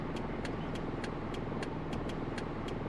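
A Holden Nova with a 3-speed automatic driving along, with a steady droning engine and road rumble heard from inside the car and a faint regular ticking on top.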